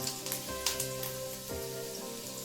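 Hot oil sizzles and crackles steadily at close range as garlic fries in it, with a faint background hum and a few sharper pops near the start.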